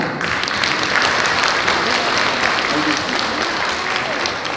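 Applause from a crowd at an annual general meeting of laver (gim) fishers in Jindo, a thick, even patter of many hands clapping continuously at close range.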